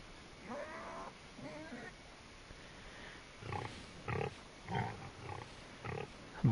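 A big old sow in Farming Simulator 25 gives a few short, close grunts and snorts, spread out in bursts over a quiet farmyard background.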